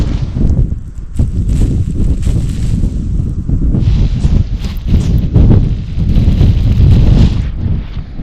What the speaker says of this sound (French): Ce vent de sable là, ça vient tout gâcher.